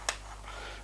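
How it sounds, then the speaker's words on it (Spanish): A Sony video camera snapping into its mount, a single sharp, brief click near the start, close and clear over a steady low hum, followed by quiet room tone. "en cuanto que se introduce suena un chasquido que hace que ya la cámara no se pueda caer"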